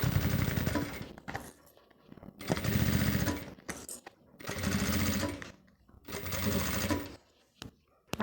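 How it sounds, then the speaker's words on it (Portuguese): A sewing machine stitches the fabric panels of a travel kit bag in four long, steady loud runs, separated by brief pauses and small clicks as the work is repositioned. "eu vou costurar essa parte aqui, essa parte e essa, e depois eu vou fazer os cantos"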